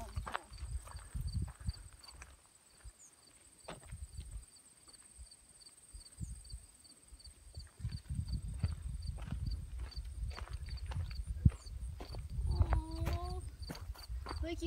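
Ponies walking along a mountain trail in Grayson Highlands, hooves clip-clopping faintly and steadily in the background beneath excited talking, with crickets and outdoor ambience.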